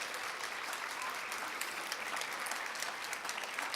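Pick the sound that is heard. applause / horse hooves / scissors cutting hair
applause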